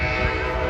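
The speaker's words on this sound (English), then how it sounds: "I think you guys are actually going to get to see a train go across the bridge soon" A train crossing a lift bridge in Chicago gives a steady, loud, dense rumble with a tonal hum, unbroken and close by.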